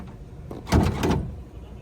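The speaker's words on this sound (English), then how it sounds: "So this is how you can open the bonnet." Bonnet of a Tesla Model 3 being released and lifted, a short muffled clunk followed by a brief rattling thud, close and fairly loud against a quiet background.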